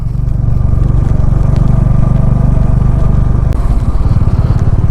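A jam of cars and motorcycles on a hill road near Darjeeling, with a loud, close engine chugging steadily and other vehicles rumbling and clattering around it.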